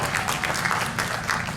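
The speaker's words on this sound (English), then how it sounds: "Clap for the elder." A convention audience at a Dragon Con panel for Land of the Lost bursts into applause, a dense, lively clatter of many hands clapping at once, filling the room for a short moment.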